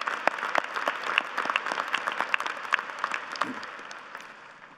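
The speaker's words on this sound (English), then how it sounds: "Let's give him and our other U of I Hall of Famers a round of applause" An audience at a University of Idaho spring commencement ceremony applauds honoring Hall of Famers, with steady, moderately distant clapping that gradually fades out.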